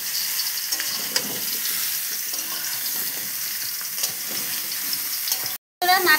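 Raw mango pieces sizzle and fry in a pan while being stirred, a steady close crackle with scraping stirs, cut by a brief silence near the end before the frying resumes.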